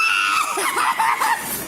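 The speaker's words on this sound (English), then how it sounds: "they got to listen to these psychos screaming outside" Screaming voices outside a hotel, loud and shrill, with wavering tones over about two seconds.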